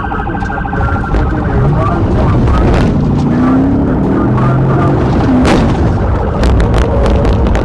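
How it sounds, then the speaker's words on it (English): Police PIT maneuver spinning a Lexus to a stop in the roadway, a loud dense mix of engine roar, siren wails and tire noise with a few impact thuds, continuous and close. "the trooper executed a PIT maneuver, causing the Lexus to spin and come to a stop in the roadway"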